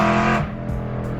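A BMW E92 M3 fitted with a loud aftermarket exhaust roars up close in one brief, harsh engine burst that drops into a lower rumble.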